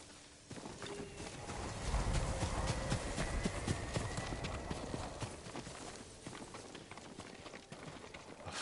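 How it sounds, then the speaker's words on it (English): A horse's hooves clip-clop steadily at a walking pace on ground in the video game Ghost of Tsushima, moderately close and fairly quiet under a soft ambient wash, with a light snort or whinny in places. "I want to look at his horse."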